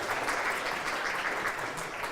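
Steady audience applause at a conference plenary session, a dense continuous patter of many hands clapping at even loudness for the whole stretch, with no talking over it.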